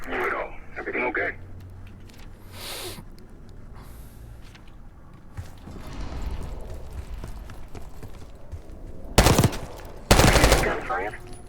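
Bursts of distant automatic gunfire echo from lower floors of a building in Call of Duty: Black Ops 6. Two loud, sharp volleys come near the end, with quieter rattles and voices earlier.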